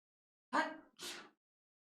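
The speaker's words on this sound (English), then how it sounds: "I'm gonna sneeze" A single close sneeze, a sharp two-part burst with an inhale catch and an explosive release, alone in near silence.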